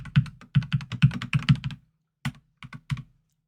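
Keys clatter on a computer keyboard as an Excel shortcut is typed, a quick burst of close, crisp clicks followed after a pause by a few separate taps, with no voices.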